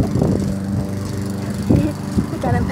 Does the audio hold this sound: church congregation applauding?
no